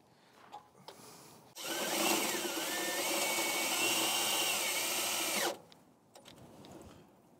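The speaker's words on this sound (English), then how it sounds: "I can work my way up to the self-tapping drill bit." A power drill with a self-tapping bit whirs loudly for about four seconds, its pitch shifting as it bites, with quiet handling noises before and after.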